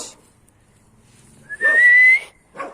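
A single loud, sustained human whistle calling a dog, near and steady, preceded and followed by brief quiet sounds.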